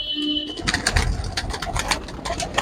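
Pigeons being shown for sale at a market give short cooing calls, a busy wingy bustle and handling noises close by, with a steady murmur of crowd and activity around them.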